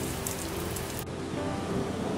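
Quiet, light drizzling rain falls steadily, a soft continuous hiss with no voices and only a brief dip midway.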